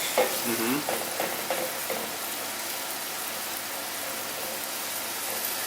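Food frying slowly in a little oil in a pan over gentle heat, a soft steady sizzle with a few stirring scrapes near the start, close and moderately quiet with no talk.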